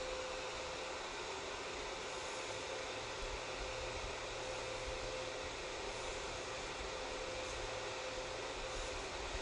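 Hair dryer blowing on an art project, a faint continuous airy hiss with a steady tonal whine, running alone without talk for the whole stretch.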